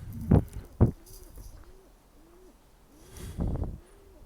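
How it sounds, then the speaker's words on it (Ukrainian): Soft, repeated cooing of pigeons nearby, a rhythmic series of low calls, with a few thumps and rustles between them. "Відчуєте голубів? Переслідують мене."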